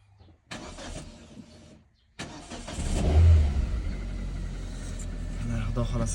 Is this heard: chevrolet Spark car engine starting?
yes